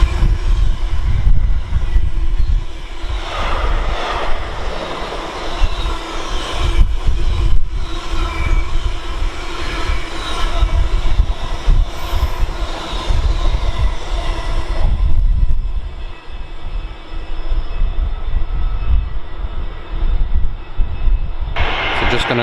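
Class 66 diesel locomotive 66418 hauling a Felixstowe to East Midlands Gateway freight past Tamworth on the West Coast Main Line, a loud sustained engine drone with rattling wagons rolling by close up before the sound thins near the end.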